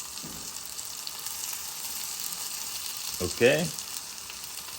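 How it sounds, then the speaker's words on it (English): Greens frying in an onion mixture give a soft, steady sizzle, with a brief burst of stirring and scraping near the end and a short spoken word over it. "we stir fry everything together"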